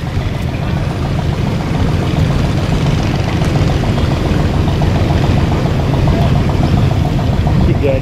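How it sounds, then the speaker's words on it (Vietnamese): Two twin-engine boats speed past in the harbour at An Thoi international port on Phu Quoc, a loud, steady, low engine drone that holds constant at close range. "Hai chiếc bên đây đang chạy tốc độ ra nè. Tốc độ chạy nhanh quá nhanh."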